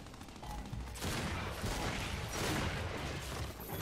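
Gears 5 gunfire in a ranked multiplayer match, heard as a dense stretch of rapid, close shooting that sets in abruptly after a quieter opening second and keeps going to the end.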